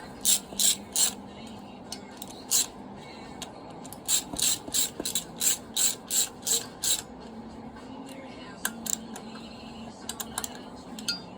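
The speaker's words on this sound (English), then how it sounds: "let me make sure your wrench is going the right way" A ratchet wrench turns the 16 mm harmonic balancer bolt on a new engine for a 1978 GMC, producing bursts of crisp close ratcheting clicks in a steady back-and-forth rhythm, with short pauses between strokes.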